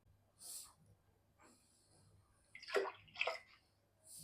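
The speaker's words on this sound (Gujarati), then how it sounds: "એને ડૂબે એટલું પાણી પણ જોઈશે એટલે આપણે પાણી અહીંયા 6 કપ લઈશું." About six cups of water go into a large pot for making rasmalai, heard as two short splashing pours near the middle, with quiet kitchen background before and after.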